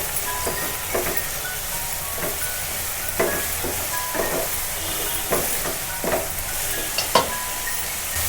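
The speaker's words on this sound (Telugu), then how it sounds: "అంతా ఒకసారి కలిపి మంచిగా ఫ్రై చేసుకోవాలి." Moong dal and onions fry in oil, a constant soft sizzle with repeated scraping stir strokes at irregular intervals, close by and without talk.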